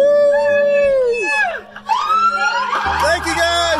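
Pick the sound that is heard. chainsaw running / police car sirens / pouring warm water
police car sirens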